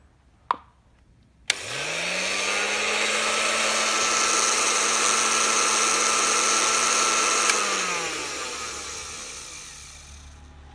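A used Japanese-market Toshiba blender clicks on and whirs at a steady, loud, high-pitched motor whine for several seconds, then winds down as it is switched off, with faint clicks at the start.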